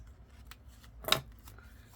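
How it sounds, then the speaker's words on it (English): A single crisp snip of scissors cutting through paper scraps, close and sharp, with faint light rustling of paper around it. "then you cut with some scissors"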